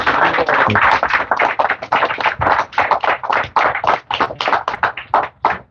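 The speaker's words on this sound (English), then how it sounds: "Let's give a round of applause." Steady applause from a crowd, many hands clapping in dense bursts for several seconds, loud and close.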